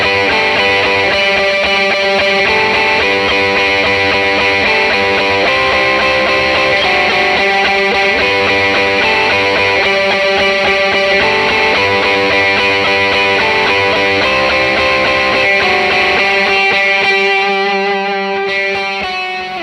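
Electric guitar played through a transparent, always-on compressor pedal, a sustained, dense chordal tone held at steady loudness throughout with no talk, easing off slightly at the end.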